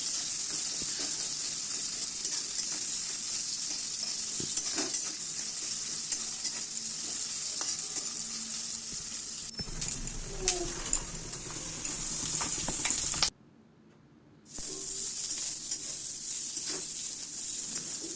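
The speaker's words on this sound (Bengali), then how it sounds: "পেঁয়াজটা ভালো করে ভেজে নেব।" Onions frying in oil in a wok, a constant close sizzle with scattered stirring clatter, a short gap of silence, then the hiss returning unchanged.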